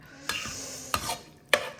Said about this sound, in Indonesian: kita bersihin kualinya pakai nasi